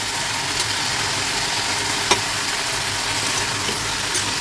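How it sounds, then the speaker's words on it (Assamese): Tomato is stirred into a pui xaak fish curry in a pan, heard as a steady, even sizzle with occasional faint scrapes of the stirring. "লৰাই দিছোঁ"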